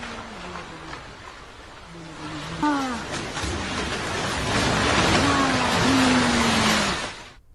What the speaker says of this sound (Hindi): 4 मंजिला इमारत, ये देखिए कैसे भर-भरा कर गिर जाती है और पानी में समा जाती है